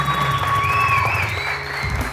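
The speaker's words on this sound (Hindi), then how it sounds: "बहुत सारी तालियां नुसरत के लिए, बहुत सारी तालियां" Studio audience applause on a morning TV show, a steady dense wash of clapping with tonal music and a sustained synth tone running through it, loud and continuous.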